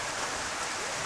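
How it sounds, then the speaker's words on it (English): Steady rain falling on an outdoor croquet lawn during an interstate golf croquet match in Australia, a continuous even hiss of moderate loudness with no voices. "So as we see the rain coming down again,"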